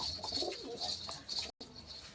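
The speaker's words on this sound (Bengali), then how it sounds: "এ পাশেও আছে অনেকগুলো কবুতর" Pigeons at a village home coo softly and repeatedly nearby, with faint chirps and rustling around them.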